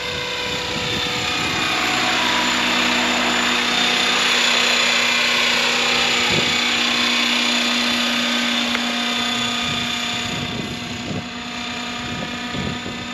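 A radio-controlled scale model helicopter flying, giving a steady high whine and a buzzing rotor drone that swells slightly and then eases as the craft moves, loud and unbroken with no talk.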